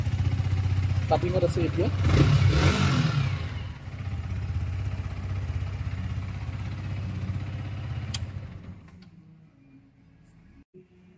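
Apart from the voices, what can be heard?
Yamaha R15 V4 2023 motorcycle engine running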